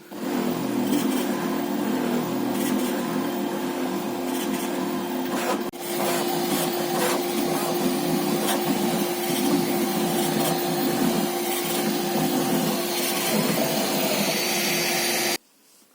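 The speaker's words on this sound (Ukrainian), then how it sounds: "Знайшов чому скріпить мій принтер." A Bambu Lab P1S 3D printer runs continuously with a steady motor hum and a persistent tonal whine, mechanical rattling and squeaks throughout, before stopping abruptly near the end.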